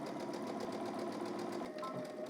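A domestic sewing machine runs steadily, stitching a garment hem with a fast continuous whir and rapid needle chatter, close and moderately quiet, with no talking.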